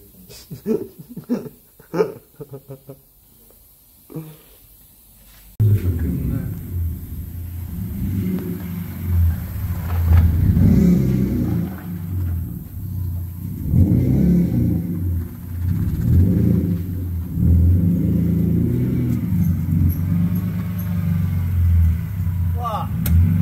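A loud drift car engine roars and revs continuously at close range, deep and rumbling, after a few seconds of quieter sounds at the start; voices are heard at the beginning and faintly around the engine.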